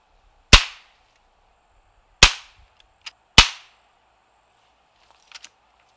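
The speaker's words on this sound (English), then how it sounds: "compare the sound of the muzzle blast from behind the gun, where the shooter stands, and from in front of the gun" Three sharp .22 caliber gunshots with crisp muzzle blasts, spaced unevenly over a few seconds, each a loud broadband crack with a short decaying tail, followed by a couple of faint small clicks, with no talking.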